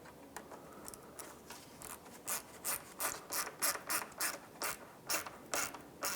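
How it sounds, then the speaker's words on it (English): New hose clamp being ratcheted tight on a radiator hose of a 1997-2001 Lexus ES 300, a close, steady run of quick clicking ratchet strokes growing louder and more regular midway through. "Snug up the hose clamp."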